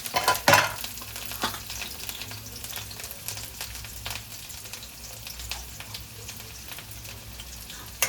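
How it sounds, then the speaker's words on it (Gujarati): Spices sizzling in hot oil, a quieter crackling hiss with a sharp burst of spitting near the start, then steady popping beneath. "અહીં આપણું તેલ પણ મસ્ત મજાનું ગરમ થઈ ગયું છે અને મમ્મી પણ એને વઘારી રહી છે"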